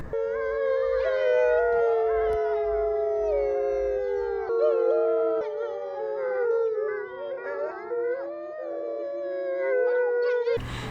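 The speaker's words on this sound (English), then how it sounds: "The wolves can decide to sing for you at any time of the day or night." Several wolves howl together in long, overlapping, wavering tones that rise and fall continuously, a full and sustained chorus.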